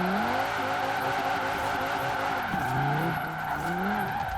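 Drift car on drag tires sliding sideways in Forza Horizon 4, a Cyberpunk 2077 car, with continuous loud tire squeal and a wavering, revving engine throughout, no talking.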